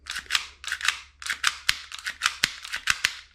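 A custom airsoft replica cycles and fires in quick bursts, each shot a sharp, close mechanical snap with a short whirring buzz between them, about a dozen shots over a few seconds.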